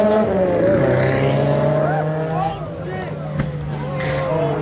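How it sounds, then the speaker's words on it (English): A first-generation Dodge Viper launches on a street with a loud, close engine roar and rising revs, tires squealing briefly as it struggles for grip, while voices talk over it. "the first generation Dodge Vipers were not really good at launching,"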